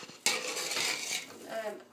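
Potatoes are mashed in a pot for a cheese and potato pie, with a metal masher scraping and clanking against the bottom in a few close, rough strokes.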